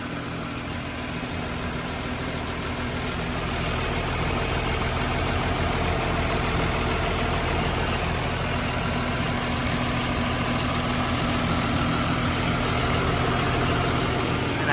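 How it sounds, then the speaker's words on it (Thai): Hitachi LX100-2C wheel loader with a Hino W06D diesel engine idling smoothly, a steady low rumble with an even hum that holds nearly constant throughout, close and fairly loud with no talking. "ครับเสียงเครื่องของเขาก็ ถือว่าทำงานนิ่มแล้วก็ปกติดีทุกอย่างเลยนะครับ"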